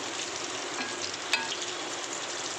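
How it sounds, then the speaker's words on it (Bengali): Besan-dipped pieces shallow frying in a little oil, an even close sizzle with one brief clink partway through. "ভালো করে দু দু পাঁচটা ঘুরিয়ে ঘুরিয়ে ভেজে নিচ্ছি"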